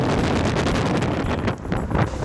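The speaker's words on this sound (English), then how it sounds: "My God, the wind." Strong wind buffets the microphone on the steep slope of Arthur's Seat hill in Edinburgh, a loud continuous roar that surges and dips in gusts.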